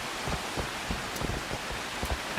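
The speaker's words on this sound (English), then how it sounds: "All of a sudden, this downpour reminds me of it." Heavy rain pours down in the Assassin's Creed Shadows video game, a steady, dense hiss of falling water with soft irregular thuds beneath it and a brief sharper sound at the very end.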